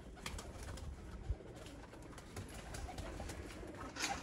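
Red-eyed breeder pigeons coo softly and repeatedly in a loft, with low murmuring calls over steady background noise.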